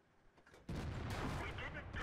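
Tank cannon hits landing in World of Tanks on a SU-122-44 tank destroyer, a sudden loud crashing impact after a quiet start followed by sustained rumbling battle noise.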